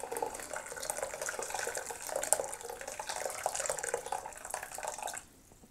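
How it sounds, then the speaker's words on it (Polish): Hot water is poured onto soaking poppy seeds, a steady close stream of splashing liquid that stops abruptly near the end. "należy zlać z wierzchu wodę i należy dolać gorącej wody."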